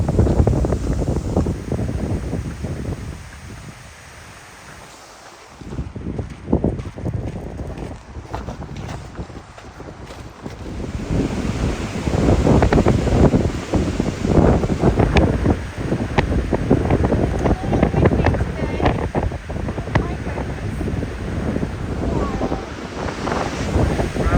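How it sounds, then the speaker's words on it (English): Strong gusts of 30 to 40 mph blow down off the mountain along a Wyoming lake trail, roaring and buffeting loudly into the microphone, easing briefly early on and then building into sustained, rushing blasts. "Probably got 30-mile-an-hour gusts going right now, maybe even 40."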